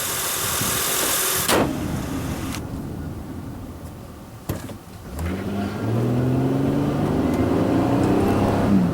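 The V6 engine of a 2005 Acura MDX SUV with 165K miles idles, then revs and accelerates with a rising hum, with a brief clunk just before it picks up.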